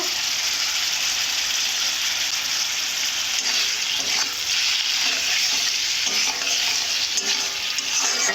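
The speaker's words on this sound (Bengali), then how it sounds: "এইভাবে ভালো করে কষে নেব" A spice paste with tomato and onion sizzles and fries in a pan with a constant hiss, while a utensil stirs it in occasional scraping strokes, close by and with no talk.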